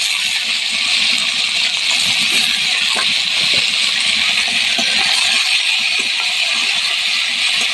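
Vegetables and ginger paste fry in hot oil while sabudana khichdi is cooked, giving a steady loud hiss and sizzle with scattered crackles and pops throughout.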